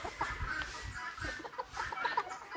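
Miniature chickens of a cockfighting breed cluck in a Jamaican rainforest setting, a string of short, close clucks and soft calls over light background noise.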